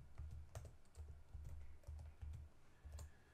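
Keys on a computer keyboard are tapped in quick, uneven bursts while a spreadsheet formula is entered, soft and close, with short pauses between clusters of keystrokes and no voice.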